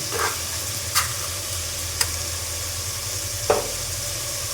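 Tomato frying in a pan for upma, a steady sizzle under a low background hum, with a few sharp clinks of a spoon stirring against the pan.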